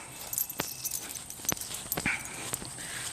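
A dog whimpers and yips in short, high, faint cries spaced irregularly over a few seconds, with outdoor background noise and no talk.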